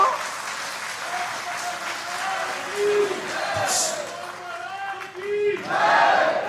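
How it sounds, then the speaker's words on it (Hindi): Audience at a religious court gathering clapping and cheering, a sustained roar of claps and shouting voices with swelling bursts, fairly close and loud. "ऐसे व्यक्तियों के लिए ताली बजाई जाए"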